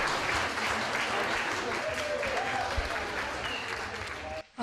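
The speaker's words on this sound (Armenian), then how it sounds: "Մեկ անգամ ես բարձր ծափարենք," At a 60th birthday celebration, an audience claps steadily in sustained, fairly even applause that fills the room, with a few voices mixed in, ending abruptly.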